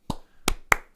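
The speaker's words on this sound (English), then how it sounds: "2 more claps" Three sharp hand claps, close and crisp, spaced unevenly with short silent gaps between them.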